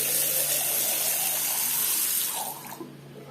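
Water runs from a bathroom tap after a newly installed shut-off valve is opened, a steady hissing stream close by that fades away near the end as the flow eases off.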